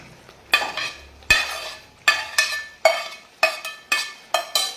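A spoon repeatedly scrapes and clanks against a pan while fried jackfruit is stirred and roasted in masala, sharp metallic knocks in an irregular rhythm of about eight strokes, close and clear with a faint sizzle between.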